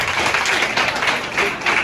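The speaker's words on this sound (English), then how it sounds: "Another two, clap." Students in a classroom give a short burst of clapping, a few quick rhythmic claps at moderate level with a muffled room sound.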